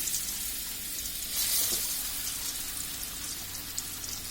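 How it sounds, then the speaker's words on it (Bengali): Pangas fish pieces frying in hot oil, a dense, continuous sizzle that swells slightly, then holds steady, close and fairly loud with no talking. "এখন তেলটা গরম হয়ে আসলে আমরা মাছটাকে ভেজে নিব"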